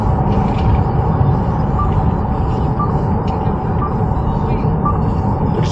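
Steady cabin rumble inside a CloudEV electric car driving along a road, low broadband road and tire noise with faint thumps over small bumps and a quiet chime, close and continuous.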